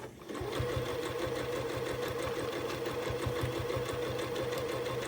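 Home sewing machine chain piecing a quilt top, running steadily at close range with a continuous rapid mechanical whir and clatter, no voices over it.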